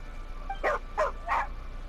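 A dog in Genshin Impact gives three short, yappy barks in quick succession, close and moderately loud over a low steady background hum.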